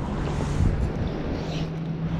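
Wind buffets the microphone over kayaks on open water, a steady close rumbling gust with faint water movement and no talking.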